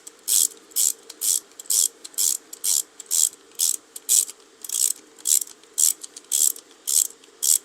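A bolt turned by hand with a ratchet during driveshaft repair on a W211 Mercedes-Benz, giving fifteen or so short, crisp clicking bursts in a steady back-and-forth rhythm, close up with no talking.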